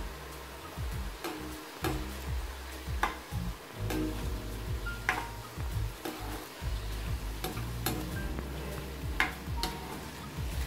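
Chicken pieces with ginger-garlic paste are stirred in a pan, with repeated scraping and clinking strokes over a low sizzle, close and steady throughout, with no voices.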